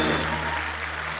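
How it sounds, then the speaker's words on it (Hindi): Brief burst of dense audience applause on a comedy talk-show stage, loud and steady, with crowd noise underneath. "वरुण और आलिया के लिए जोरदार तालियां"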